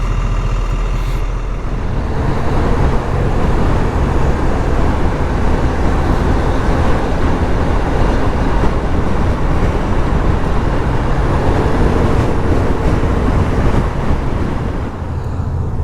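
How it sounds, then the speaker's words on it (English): Steady, loud roar of passing road traffic heard from a Vespa ET4 scooter, with cars and trucks rumbling by continuously and close at hand, no voices. "There's a lot of traffic on this road."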